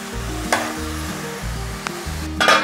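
Taro leaves frying in oil in a home kitchen pan while being stirred, a steady sizzle under repeated scraping stirs and a few sharper clatters of the spoon.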